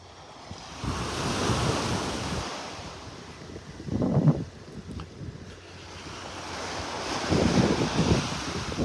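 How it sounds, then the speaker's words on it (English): Steady wind rushes and buffets over a low wash of surf at Vanderbilt Beach, Naples, Florida, swelling in gusts a couple of times, with no voices. "Little breeze, you can hear that wind blowing."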